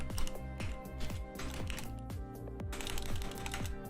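Rapid, steady typing on a computer keyboard, close and clear, with dense clicking keystrokes throughout and no talking.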